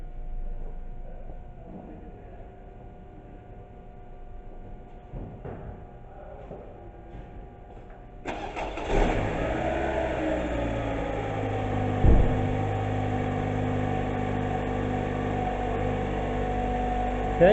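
A car engine cranks and catches about halfway through, then settles into a steady, fairly loud idle hum that carries on to the end after a quieter stretch of background noise.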